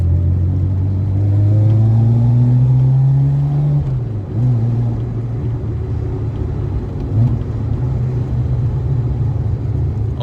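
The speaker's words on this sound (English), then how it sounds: "Now when this thing gets up to temperature, it backfires a lot." Nissan R31 Skyline with an RB30 straight-six and straight pipe, warmed up and running rich, heard from inside as the engine revs up and drops, a steady loud drone with a brief sharp backfire pop near the middle on lift-off.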